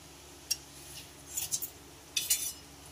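A utensil stirs crab and water lily stems together in a pan, giving a few soft, scattered metallic clinks and scrapes at low volume, with no voices.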